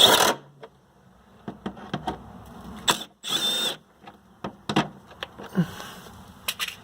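Socket wrench ratcheting bolts back onto a metal cover on a Nissan 300ZX during a Walbro fuel pump install, heard as several short bursts of clicking and metallic clatter with pauses between, close up, with no talk.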